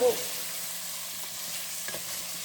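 Chicken pepper fry being stirred in hot oil, with a steady, soft sizzle and faint scraping of the stir, fairly quiet and close.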